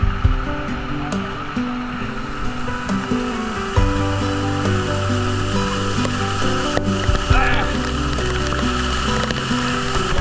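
Broadband roar of water from a waterfall in a hidden paradise of rivers and cascades, steady and loud throughout, with a slight surge partway through and no voices.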